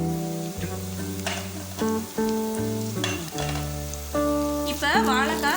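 Raw banana pieces frying in a pan over a medium flame, a soft, continuous sizzle mostly buried beneath louder background music.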